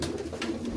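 Pigeons cooing in a loft during breed separation, a soft low coo repeating through a short burst, close and fairly steady.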